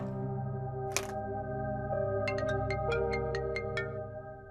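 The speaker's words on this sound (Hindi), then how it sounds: "अभी मैंने ही फोन किया है तुझे सपना।" A mobile phone rings for an incoming call, a bright melodic ringtone of repeated electronic notes in a quick series over a steady background tone, loud and close, with no talking.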